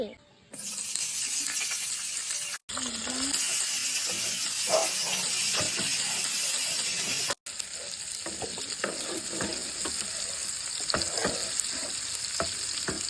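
Chopped onion hits hot oil in a pan where fish was just fried, setting off a loud steady sizzle with stirring scrapes and clinks running throughout.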